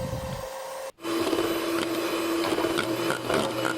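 After a brief pause, an electric mixer whips cream cheese and condensed milk for a milk cake, producing a loud, steady motor whir with slight wavering in pitch and no talking.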